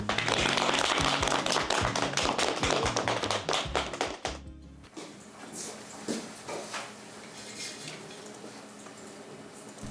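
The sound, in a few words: firefighters clapping at end of morning meeting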